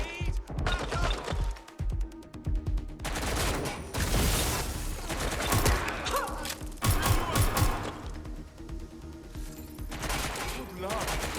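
Video game gunfire in Watch Dogs: Legion: dense bursts of rapid shots and crashes ring out in several loud volleys, with short lulls and game voices mixed in.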